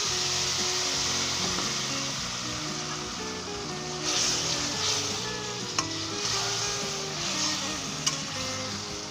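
Chicken liver, gizzard and heart frying in a karahi, a loud, continuous sizzle broken by stirring scrapes and a couple of sharp clinks, with a low tonal hum underneath.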